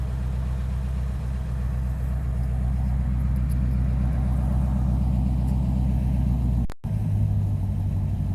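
A low, steady exhaust rumble from a 1988 Chevrolet C4 Corvette engine idles loudly and continuously, with a brief dropout and a slight change in tone near the end.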